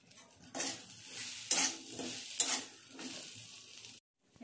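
Drumstick pods and eggplant are stir-fried in spices in a pan, heard as bursts of close sizzling with spatula scrapes and clinks in an irregular rhythm, ending in brief silence.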